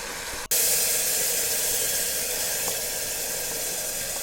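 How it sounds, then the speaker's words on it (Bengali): Whole spices, including cardamom and green chilies, sizzle in hot oil in a pan for bhuna khichuri. A sudden, steady close frying hiss starts after a brief gap and continues, with no talking. "মশলাগুলো সামান্য একটু কষাবো।"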